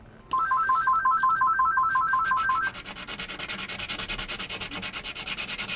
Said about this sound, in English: I'm gonna get some heavier grit sandpaper.